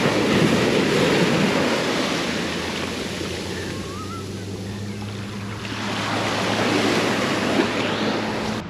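Strong sea waves roll in at Laem Mae Phim, a broad roaring surf that swells, eases midway, then builds again, heard alone with a constant windy rush.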